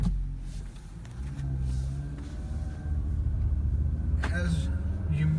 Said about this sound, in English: that sport exhaust sounds really, really good with this new 5-cylinder